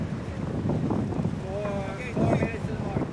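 Strong wind roars and buffets across a VO65 racing sailboat at sea during an ocean race, a constant rough blustering with faint whistling tones and voices in the background.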